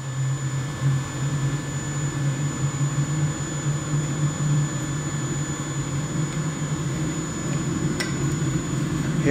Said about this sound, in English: Now it's time to test the furnace with the new fuel pump,